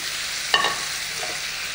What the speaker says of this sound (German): dann das ganze Fleisch wieder in die Pfanne